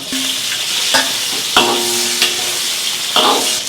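Bean paste and whole spices such as Sichuan peppercorn, star anise, bay leaf, cinnamon, dried chili, nutmeg and angelica root stir-fried in hot red oil, with steady close sizzling broken by several scraping stirs of a spatula in a wok.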